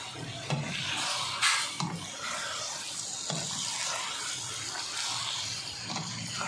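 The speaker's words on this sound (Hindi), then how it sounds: "अब हमने पहले डालना है लहसुन अदरक का पेस्ट थोड़ा सा इनको घुमाएंगे टमाटरों के साथ और चिकन के साथ" Chicken frying in a pan with softened tomatoes and garlic ginger paste while being stirred, a steady soft sizzle with occasional scraping and stirring knocks, fairly quiet and with no talk.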